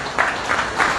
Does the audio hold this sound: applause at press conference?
yes